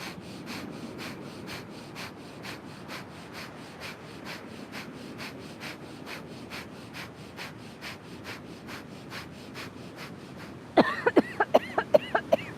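Rapid, even nasal breathing in a yoga fire-breath exercise, dozens of sharp puffs in a steady fast rhythm, close and alone, ending in a few louder clicks and bursts.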